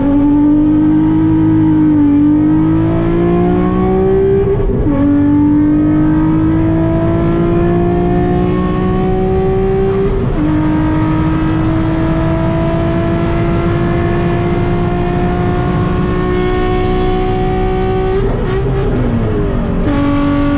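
Tuned 350whp Nissan 350Z NISMO with a loose bumper pulls hard through the gears, its loud, steady engine note rising repeatedly with brief dips at each shift, heard from inside the car with no talking.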